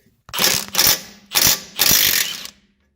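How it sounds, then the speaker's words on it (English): Impact wrench with a swivel socket on a corroded 19 mm tie rod nut of a Porsche 944, loud close bursts of rapid rattling hammering in four short runs with brief pauses. "So I'm just going to get my impact on here with a swivel socket."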